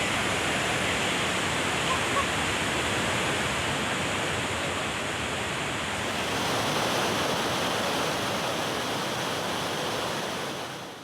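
Water rushes through six opened dam gates after heavy rain, discharging about 10,832 cusecs: a loud, steady, broadband roar that continues unbroken for the whole stretch, with no voices.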